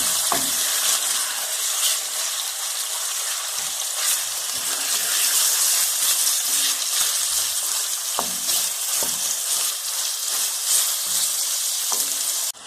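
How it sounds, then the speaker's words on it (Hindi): Chicken pieces fry in ghee in a karahi for a black pepper chicken dish, giving a continuous close sizzle with occasional stirring scrapes and clinks of a utensil against the pan. "ये देखे माशाल्लाह चिकन को मैं अच्छी तरह घी में भून रही हूँ"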